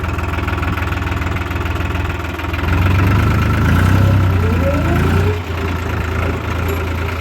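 A heavy diesel engine of a 3630 Super Plus tractor idles with a steady knocking thump, then revs up briefly with rising whine before settling back to a rough idle.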